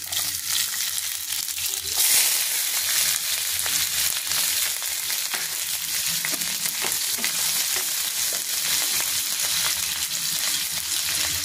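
Onion dropped into cumin frying in oil, a loud, steady, close sizzle that carries on without a break, with occasional faint stirring scrapes underneath.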